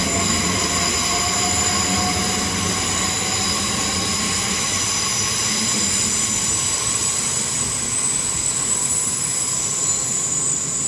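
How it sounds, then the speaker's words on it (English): A Great Western Heathrow Express class 387 train, unit 387136 with 387134 on the rear, departs a London terminus for Heathrow Terminal 5 with a steady electric whine, tonal hum and wheel squeal running throughout. "Great Western Heathrow Express to Heathrow Terminal 5, 387136 leaving"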